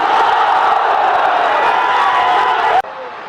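A large crowd roars a slogan together in a loud, sustained mass of shouting voices that fills the space, cutting off abruptly near the end.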